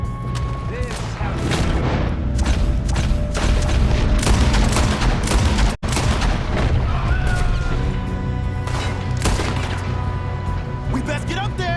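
Repeated gunshots and booms from the video game Red Dead Redemption 2, a loud, dense fusillade of shots and blasts running almost continuously, with a brief dropout near the middle and mechanical clatter mixed in.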